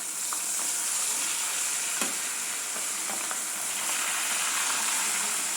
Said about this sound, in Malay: ikan kita pun dah selamat masuk kuali